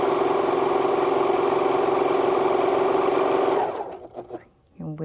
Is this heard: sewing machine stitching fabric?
yes